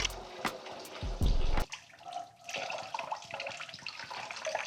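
Coolant splashing and trickling as it drains from a BMW X5 engine during thermostat work, a heavy gush in the first second and a half easing to a steady, thinner trickle close by.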